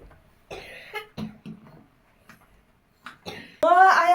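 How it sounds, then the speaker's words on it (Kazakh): A small child coughs in a few short, close bursts during a pretend doctor visit at home, mixed with quiet murmurs and an adult voice talking, ending in a louder vocal sound. "Сен не, жөтеліп қалдың ба, не?"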